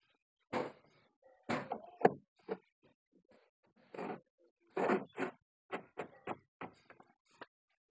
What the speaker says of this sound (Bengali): এখন কিন্তু দরজা লাগিয়ে গেছে,